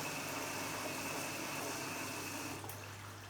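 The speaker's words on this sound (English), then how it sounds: "Main wash, and it's also doing the motor test for tumbling." A Hoover H-Wash 300 Lite washing machine runs its tumbling motor test in service mode, giving a quiet, steady hum of motor and drum with faint watery swishing, no voices.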